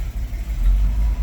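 An old GMC truck with a big V6 that had sat unused for eight years runs with a low, rumbling idle, steady and close with a slight swell in the middle, no voices over it.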